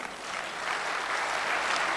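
A burst of broadband clapping from a poetry recital audience, steady and fairly even in volume, with no voices over it.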